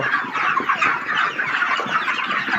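A dense flock of broiler chickens on a poultry farm clucks and chatters continuously at close range. The sound forms a busy, unbroken din with no voices.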